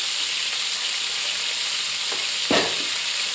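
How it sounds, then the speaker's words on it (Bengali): Peeled pointed gourd (potol) fries in a pan with a steady, close sizzle, and a single brief scrape of stirring comes near the end. "এবারে নেড়ে চেড়ে একটু ঢাকা দিয়ে দেবো, তাহলে তাড়াতাড়ি ভাজা হয়ে যাবে পটলটা।"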